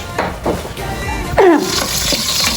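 Onion sautéing in a pan, a loud close sizzle with scraping stirs and a clatter of utensils against the pan, steady frying hiss throughout.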